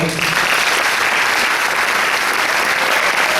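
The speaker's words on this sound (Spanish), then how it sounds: "Pido un fuerte aplauso, por favor." A large audience at a Paraguayan harp day event gives loud, sustained applause for a harp master, a dense, unbroken roar of clapping.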